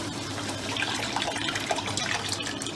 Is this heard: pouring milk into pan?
yes